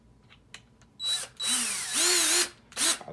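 A power drill fitted with a 1-inch adapter enlarges a hole in a metal door for an electronic deadbolt: a few short revving bursts, then longer whining runs that rise and fall in pitch, close and loud.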